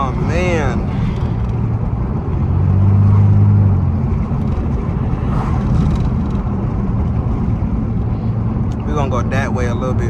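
A Pontiac Grand Prix GT with its muffler deleted drives along, its exhaust giving a deep, loud, steady drone that swells briefly as it accelerates, with a person talking over it inside the car.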